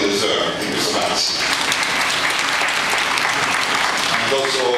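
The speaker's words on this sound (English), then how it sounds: "So a big round of applause you deserve." A loud round of applause erupts at a captain's cocktail party, dense clapping sustained across the whole stretch with voices mixed in near the start and end.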